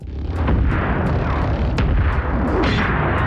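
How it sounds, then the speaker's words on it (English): Torpedoes fired in a science fiction space battle make a dense, loud run of booming blasts and sharp bursts that layer over one another continuously. "This sounds like torpedoes being fired."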